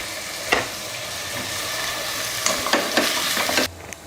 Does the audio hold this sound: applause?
no